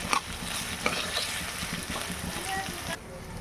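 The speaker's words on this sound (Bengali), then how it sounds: "পেঁয়াজগুলো আমি একটু বাদামি করে ভেজে তুলে নেব।" Thinly sliced onions fry in hot oil until browned for chili chicken, giving a steady, close crackling sizzle with a few sharp clinks of stirring.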